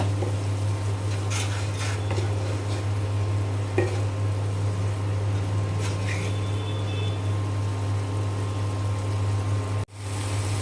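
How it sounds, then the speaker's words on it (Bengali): Spices with salt are sautéed in a pan for an egg curry, producing a low, even sizzle and stirring beneath a steady mechanical hum, with a faint clink partway through and a brief dropout near the end. "সব মশলা আমি খুব ভালো করে কষিয়ে নেব।"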